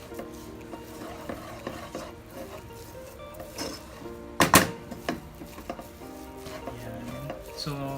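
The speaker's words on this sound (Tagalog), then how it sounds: "Mix lang po natin siya para mag-blend po yung mangga saka yung coconut." A utensil stirs green mango and coconut sauce in a pan with soft scraping and clinks, a light sizzle underneath and one sharper clatter midway.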